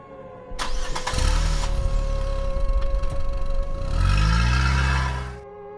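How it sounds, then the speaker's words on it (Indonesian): A car engine cranks briefly, catches and starts, then idles loudly and close up before a short rise in revs and a cutoff, with no talking. "lalu menyalakan mesin."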